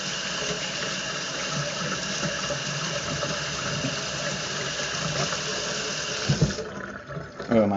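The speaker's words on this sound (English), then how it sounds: "I'm going to rinse off my hands" A kitchen tap runs steadily as greasy hands are rinsed under it, a continuous close splashing rush that stops near the end, followed by a few brief clunks.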